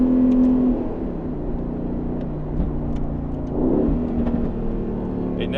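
Audi R8 with a V8 and older-style DSG gearbox revving hard, engine note rising then dipping at a gear change and pulling again, loud and close inside the cabin, with no talk.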